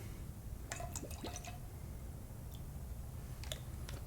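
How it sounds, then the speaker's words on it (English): Fragrance oil drips and trickles into melted candle wax in a short burst of small liquid splashes and clicks, quiet and close, then a few faint drops after a pause. "put approximately a tablespoon of your fragrance oil, or half of the bottle if you're only doing one container"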